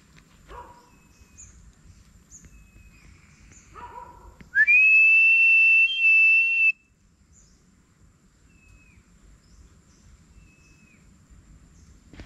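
A dog barks a few times, faint and distant, outdoors on a hot day, partly masked by a loud human whistle and scattered bird-like chirps.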